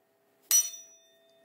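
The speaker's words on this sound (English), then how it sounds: "Are the tuning fork's sounds" A struck tuning fork gives a single sharp metallic strike followed by a thin, steady pure tone that rings on faintly and alone.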